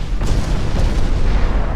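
Explosions and flash fires erupt across a sprawling naval battle among dozens of early-1900s ships in the strategy game Ultimate Admiral Dreadnoughts, a dense, continuous rumble of overlapping booms and artillery-like blasts with no pauses.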